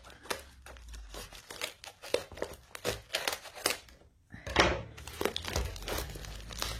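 Plastic wrapping on an oracle card deck crinkles and tears in close, busy bursts, with one brief pause before a fresh burst of rustling as the packaging comes off.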